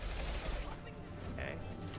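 Gunfire in the video game Mass Effect 2, a dense, continuous rattle of shots filling the short clip at steady loudness, with game effects mixed in and no break in the firing.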